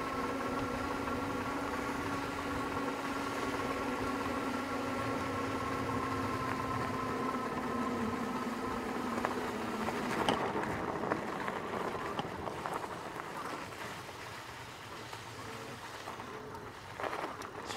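ENGWE X26 electric bike ridden outdoors, a steady motor whine with tonal harmonics running continuously for the first half, then giving way to rougher rolling and rushing noise as it moves along.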